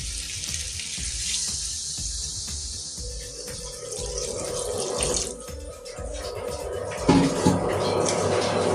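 Broth pouring into a pan for a tilapia fish curry with potato and eggplant, a steady close gush of liquid over a continuous sizzle, with a louder splash near the end.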